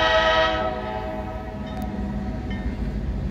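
A Norfolk Southern freight train passes at a street crossing in Bristol, its horn sounding loud and sustained at first, then fading into the steady rumble and rolling clatter of the cars, with no talking.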